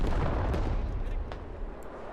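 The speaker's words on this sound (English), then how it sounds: "Artillery off in the distance as Vinny continues to put the pressure on." Distant artillery rumbles as a deep, booming roll in the Squad video game, a heavy low-frequency blast that slowly decays over a couple of seconds.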